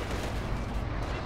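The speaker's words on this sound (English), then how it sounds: "It's a mean anti-tank gun." Heavy booming blast of an anti-tank gun firing in the video game Company of Heroes 2, a dense, loud low rumble filling the whole short moment without pause.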